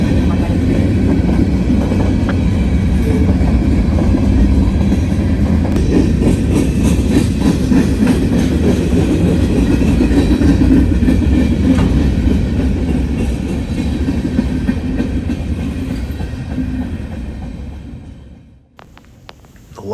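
A heavy Norfolk Southern freight train, one of Ohio's, rumbles past with rhythmic clickety-clack of wheels on rails, loud and close, fading away eastward near the end.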